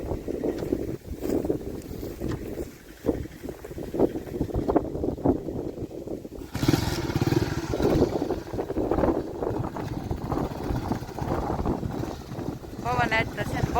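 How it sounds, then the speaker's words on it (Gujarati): Strong gusty wind roars and buffets the microphone outdoors in a farm field where pesticide is being sprayed, loud and continuous with shifting surges. "પવન આજ તો છે ને બહુ છે."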